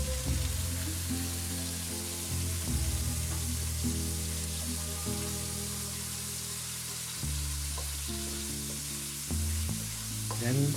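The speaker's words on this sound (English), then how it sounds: "Next up is stir frying the chicken." Chicken stir-frying in a hot pan, a steady, dense sizzle that runs unbroken for the whole stretch while background music plays along underneath.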